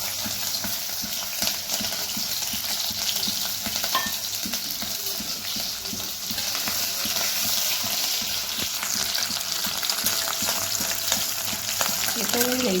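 Garlic and green chili sizzle steadily in hot oil in a pan, a continuous close crackling fry with no voices, from start to finish.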